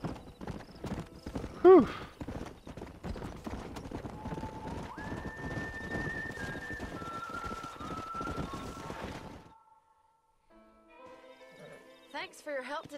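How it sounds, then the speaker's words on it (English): Rapid clip-clop of horse hooves in Red Dead Redemption runs under a busy mix with a brief whinny, then fades to a quieter stretch with faint chirpy sounds. "We got some fine horses."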